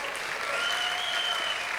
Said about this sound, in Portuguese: Uma salva de palmas para essa banda maravilhosa.